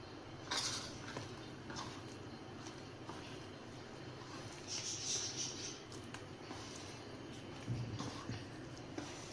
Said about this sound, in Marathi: तवा ठेवूया गॅसवर।